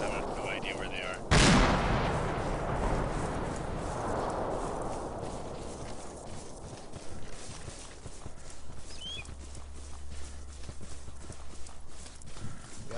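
A loud mortar blast lands close in Arma 2 on a Takistan battlefield, a sharp impact followed by a long rumbling decay over a steady low background drone.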